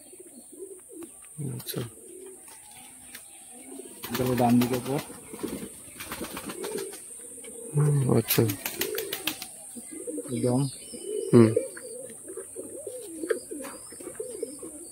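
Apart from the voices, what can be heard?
pigeons cooing in a loft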